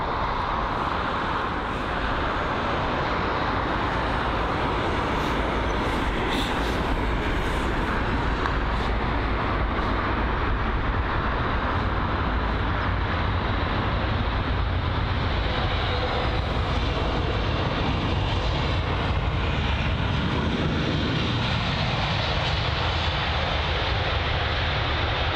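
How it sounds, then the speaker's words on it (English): A Eurowings Airbus A319 comes in to land on runway 27 right at London Heathrow, its jet engines producing a broad, continuous roar that stays steady and fairly loud throughout, with no voices. "So there is the Eurowings A319. So that's going to be landing at runway 27 right"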